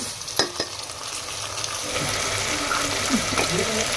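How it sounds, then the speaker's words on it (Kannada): Chopped onions fry in a pan with a steady close sizzle, broken by scraping stirs and a few clanks of a utensil. "ಉಳ್ಳಾಗಡ್ಡಿ ಫ್ರೈ ಮಾಡ್ಕೊಳ್ರಿ ಇದು ನೋಡಿರಿ ಉಳ್ಳಾಗಡ್ಡಿ ಫ್ರೈ ಹಾಕತ್ತವು"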